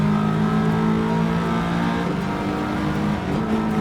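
Race cars launch off the grid in a Gran Turismo 7 Nations Cup race, a steady, loud engine drone with layered tones shifting as the cars accelerate together.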